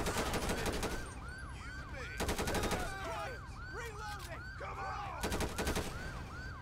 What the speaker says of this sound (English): Shots fired this time. Shots fired.